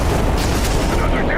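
Booming gunfire and explosions from a combat scene in the game Starfield rumble loudly and continuously, with a voice speaking over the noise.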